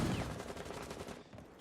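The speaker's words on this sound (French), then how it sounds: "IQ qui entend justement les tirs de ce Mozi." Gunfire in a Rainbow Six Siege match makes a quick, dense rattle of shots. It sounds muffled and somewhat distant and runs steadily through the short moment.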